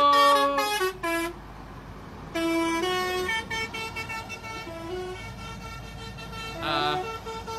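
A truck horn blares in long sustained honks with clear tonal pitch, broken by brief gaps, then repeats in several blasts as the truck circles, fairly loud and close with no talking.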